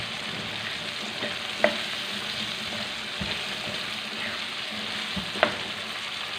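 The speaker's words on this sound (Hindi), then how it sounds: "आलू डालने के बाद हम इसको भून लेंगे" Potatoes frying in a pan with tomato masala for aloo palak sabzi, a steady low sizzle with a couple of sharp stirring clinks, close and fairly quiet, no talking.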